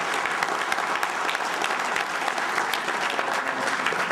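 An audience at a business leaders' event claps in dense, even applause that stays loud and steady throughout, with no voices rising above it.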